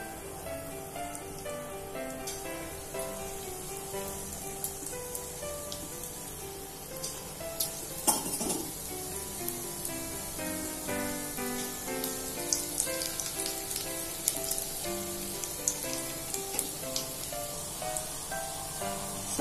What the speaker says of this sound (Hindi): तेल गर्म हो चुका है, अब हम इसमें पकौड़ा डाल देते हैं।